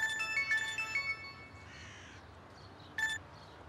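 A phone ringtone plays a short electronic melody at moderate loudness, then stops, and a brief burst of the same tone returns near the end, with no talking over it.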